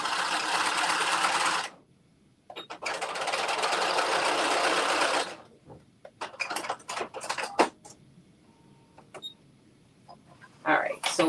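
A sewing machine stitches a garment side seam in two loud, rapid bursts separated by a short pause, then falls silent, leaving scattered clicks and fabric handling with brief speech.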